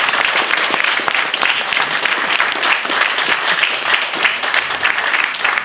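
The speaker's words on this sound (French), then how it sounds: "Je voudrais qu'on l'applaudisse encore une fois." Crowd at a campsite's 50th anniversary party applauding their host, lively close clapping with individual sharp claps standing out in a sustained, even round.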